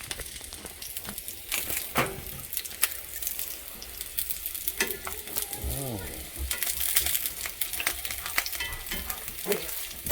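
Fondant potatoes searing in a hot pan and being flipped, a close, continuous crackling sizzle broken by sharp clatters and scrapes as the pieces are turned, with a brief voice in the middle.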